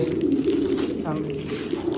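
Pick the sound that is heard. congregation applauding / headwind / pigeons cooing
pigeons cooing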